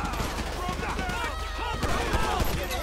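Gunfire in the FBI Patrol police video game: a rapid burst of close, loud shots repeating through the moment, mixed with chaotic game sounds and voices talking over it.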